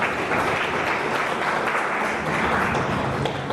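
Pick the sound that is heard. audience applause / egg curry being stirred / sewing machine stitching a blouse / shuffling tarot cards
audience applause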